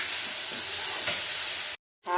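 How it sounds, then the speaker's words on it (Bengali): Jackfruit and mango pickle is stirred in hot oil in a wok, giving a steady, close, bright sizzle that runs evenly, then cuts out abruptly and returns briefly at the end. "একটু নেড়ে চেড়ে নেব"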